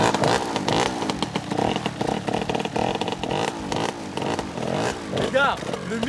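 Motocross bike engine revving hard in quick repeated bursts as the rider tries to lift a wheelie, loud and close with rattling mechanical clatter, and someone talking over it.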